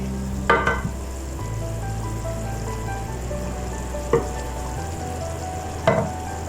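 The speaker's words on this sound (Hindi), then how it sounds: "अब हम इसमें गरम मसाला ऐड कर देंगे, अच्छे से मिक्स करेंगे।" Garam masala being stirred into a pot of aloo kofta curry, with a spoon scraping and knocking the pot a few times over a steady low simmer-and-sizzle hiss and a kitchen hum.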